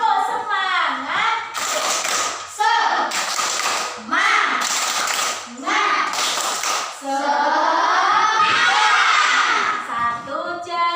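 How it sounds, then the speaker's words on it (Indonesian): A classroom of children performs the tepuk semangat spirit clap, chanting rhythmic phrases together and answering each other with bursts of sharp, loud group claps between the chanted lines, all close and lively. "marilah kita tepuk semangat terlebih dahulu"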